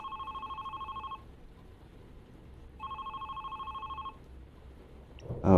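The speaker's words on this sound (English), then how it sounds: "Maybe I should pick up the phone." Telephone ringing in the video game The Red Strings Club: two bursts of rapid electronic trilling separated by a pause, clear and up close.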